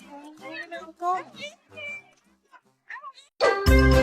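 A cat meows near a car, a few short mews heard between a child's and adults' voices, followed by a loud rumbling noise at the end.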